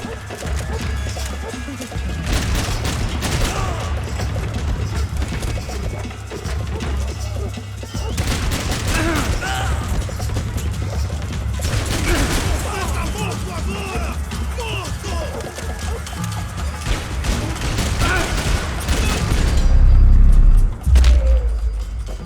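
Rapid bursts of AK assault rifle fire in the Max Payne 3 shooter game, dense automatic volleys and explosive crashes running almost continuously under game noise, with a heavy rumbling swell near the end.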